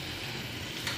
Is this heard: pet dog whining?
no